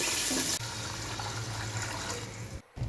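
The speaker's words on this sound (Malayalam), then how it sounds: "ഇനി അതിലേക്ക് വെള്ളം ഒഴിച്ചു കൊടുക്കണം." Water runs steadily into a cooking pot holding oil sautéed with cinnamon, cardamom, cloves and sliced onion for Malabar-style chicken dum biryani, a continuous close splashing flow that cuts off abruptly near the end.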